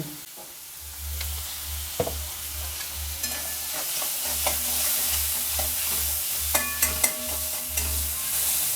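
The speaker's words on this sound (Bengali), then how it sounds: "মাছটাকে আমি হালকা করে একটু ভেজে নেব" Steady sizzling of fish frying lightly in hot oil, with occasional clinks and scrapes of a utensil stirring in the pan, no voices.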